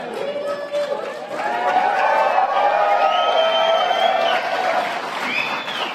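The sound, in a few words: audience clapping at the White House Tribal Nations Summit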